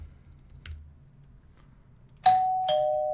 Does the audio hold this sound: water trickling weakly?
no